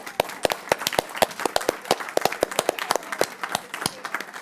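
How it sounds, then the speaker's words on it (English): An audience at a school board workshop applauds the district team, with sharp, irregular claps from a modest group of people, fairly close and steady throughout with no voices over them. "Is it appropriate to ask our team to stand and give them applause?"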